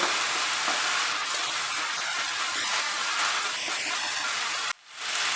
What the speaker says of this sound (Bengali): ভেজে রাখা ডিমের সঙ্গে মশলাটা মিশিয়ে আমি আরও 1 মিনিট রান্না করব।